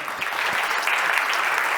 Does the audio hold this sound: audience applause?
yes